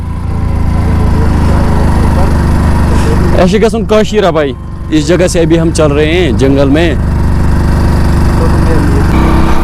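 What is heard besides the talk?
Hero Splendor motorcycle engine while riding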